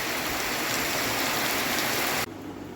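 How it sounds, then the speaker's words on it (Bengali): Heavy rain driven by strong wind makes a dense, loud, steady hiss that suddenly drops to a much quieter wash near the end. "প্রচণ্ড হাওয়া আর বৃষ্টি"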